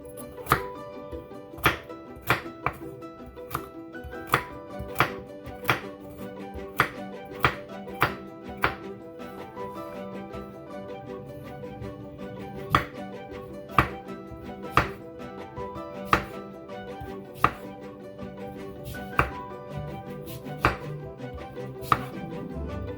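A knife chops ingredients for limited-ingredient Instapot dog food on a cutting board, producing steady, sharp, close thunks repeated at a fairly even pace, with no talking.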